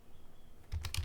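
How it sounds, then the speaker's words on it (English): A short burst of a few keystrokes on a computer keyboard, close and crisp, coming after a brief quiet moment. "I just type pass"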